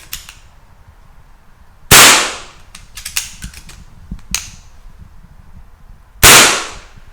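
Two loud sharp shots from a Victory CP2 CO2 switch-barrel air pistol/rifle, spaced a few seconds apart, with fainter metallic clicks of the bolt cycling in between, recorded indoors in a reverberant room.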